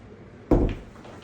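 A cupboard door in a house for sale in Germantown, Tennessee gives a single close knock as it opens or shuts, then fades quickly into a quiet room.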